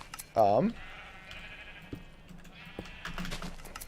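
Sheep bleat in the Minecraft video game, one loud wavering bleat near the start, then faint background game noises and scattered clicks while a person talks quietly underneath.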